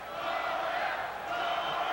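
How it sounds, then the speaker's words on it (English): A boxing crowd at the Halifax Metro Centre chants for the fighter Doris, a steady, dense roar of many voices that fills the hall without a break. "Chant of Doris"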